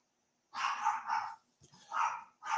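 A dog barks in a few loud, close bursts indoors, separated by short pauses, with no talking over it.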